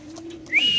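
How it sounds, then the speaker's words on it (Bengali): Red checker pigeons at a pigeon farm give a brief soft call: a low coo, then a rising whistle-like note near the end, close and alone, under a second long. "খুবই সুন্দর মাশাআল্লাহ, রেড চেকার কবুতর।"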